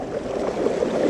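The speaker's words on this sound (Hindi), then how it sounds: "झरना" Mountain stream and waterfall in dense forest near Rishikesh, a steady broadband rush of flowing, splashing water heard alone and fairly loud throughout, with no voices.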